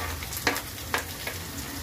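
Capsicum hits a pan of frying ginger-garlic paste with a steady, close sizzle, broken by three brief stirring scrapes.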